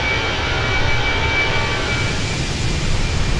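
Steady, loud engine drone of a Boeing airliner in Microsoft Flight Simulator 2020, a broad continuous roar with a faint high whine running through it and no other sounds.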